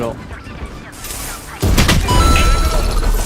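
A single loud gunshot from Chamber in Valorant, heard after a stretch of quieter game ambience, then a sustained rumbling report and room noise, with a faint voice beneath.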